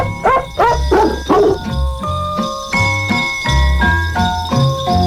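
A recording of Jingle Bells, with dog barks edited into the tune's pitched notes. Loud, rhythmic barks follow the melody over a jingling backing.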